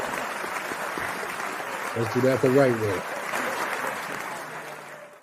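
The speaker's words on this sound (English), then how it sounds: "Let's give her them real hand claps." A podcast audience gives a brief burst of hand claps applause, loud for about a second, mixed in with people talking and a background hubbub.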